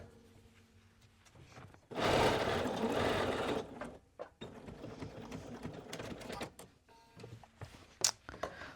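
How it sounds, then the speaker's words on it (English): A sewing machine stitches a 3/8-inch seam on a hoodie. One loud, steady burst of stitching runs for about two seconds, followed by quieter handling clicks and rustles. "now we are going to sew at 3/8 of an inch seam allowance"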